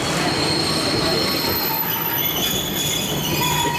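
Choshi Electric Railway train arriving at a small station through trees, steel wheels squealing loudly and continuously against the rails with a steady rumble beneath, close by and without talk.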